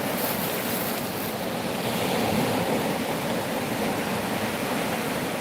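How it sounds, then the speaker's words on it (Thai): Gentle sea waves wash in a steady, unbroken rush, soft and even throughout. "นั่งหลับตา ฟังเสียงคลื่นสดเบา ๆ"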